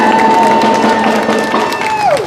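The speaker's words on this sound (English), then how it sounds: "Give yourself a round of applause." Crowd clapping and cheering at the close of a live broadcast, loud and continuous under a sustained tone, with voices mixed into the brief burst.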